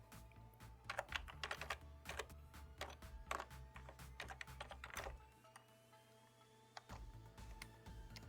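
Keys tapped on a computer keyboard in quick irregular bursts while a web address is entered, close and fairly quiet over a steady low hum, with a short pause near the end before a few more keystrokes.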